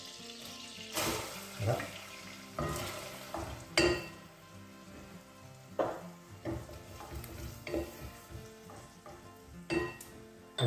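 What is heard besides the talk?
chopped onion frying in melted butter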